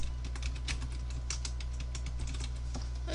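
Fingers tapping out a name on a computer keyboard, with quick irregular clicks of keystrokes, fairly close and clear over a low steady background hum.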